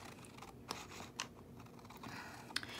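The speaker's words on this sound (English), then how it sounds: "Then you're just going to take it and you're going to cut it out." Scissors snip through paper while cutting out a letter-shaped Christmas ornament, a few faint, close crisp cuts spaced irregularly over low background noise with no talking.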